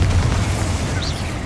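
Spell explosions from Confringo and Bombarda blast in Hogwarts Legacy, a loud, sustained rumbling boom with heavy low-end roar and crackling debris filling the whole moment, no voices over it.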